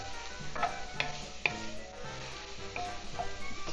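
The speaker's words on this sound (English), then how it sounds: "Doesn't take long at all for this vegetable to sweat down." Vegetables sweating in a pot with thyme for red beans and rice, a soft steady sizzle with a few sharp clinks and scrapes from stirring, close and with no voices.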